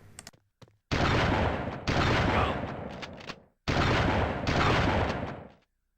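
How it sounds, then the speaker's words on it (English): Gunfire from Army Men Sarge's Heroes comes as two pairs of long, loud, roaring blasts separated by brief gaps, heavy and close with no talk. "I wasn't kidding about the shotgun in this game"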